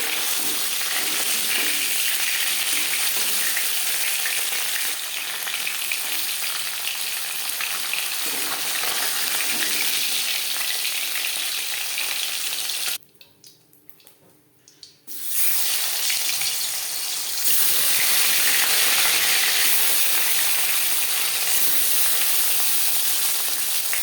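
Snakehead fish frying in hot oil gives a loud, steady, broadband sizzle that drops away briefly for about two seconds before resuming at full strength.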